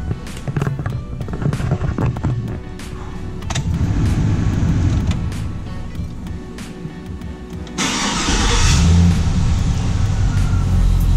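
A 2005 Chevrolet Silverado 1500 pickup truck's engine turns over and runs, a steady rumbling idle that grows louder and fuller toward the end, close by.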